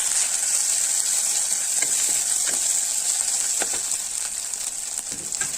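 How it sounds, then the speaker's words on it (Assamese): Onions fry in hot oil until browning, giving a steady, close sizzling hiss with occasional soft crackles and stirring scrapes, no voices. "এয়া পিঁয়াজখিনি ব্ৰাউন হোৱালৈকে ভাজি লৈছো।"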